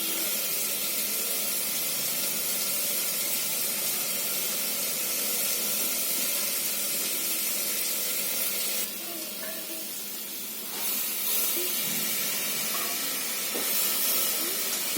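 A pressure cooker on the stove vents steam while lentils (masoor and moong dal) cook, giving a steady, fairly loud broadband hiss throughout that briefly drops and shifts partway through.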